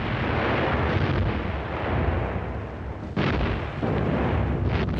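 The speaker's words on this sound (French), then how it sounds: "Les canons allemands écrasent les positions ennemies." German artillery cannons firing in wartime footage, a dense continuous roar of booms and blasts with sharp bursts near three and four seconds, loud and sustained.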